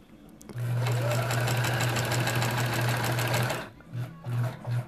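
A sewing machine binding a quilt runs steadily for about three seconds with a fast humming stitch rhythm, then gives a few short stop-start bursts, close and clear.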